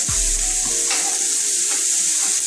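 Onions dropped into a hot pan already seasoned with salt, pepper, garlic powder and onion powder for cabbage soup, hissing into a loud, steady sizzle with a brief stir at the start, close and continuous with no talk.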